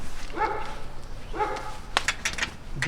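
A dog in a haunted-house video game barks twice, about a second apart, followed by a few sharp clicks over a low background hum.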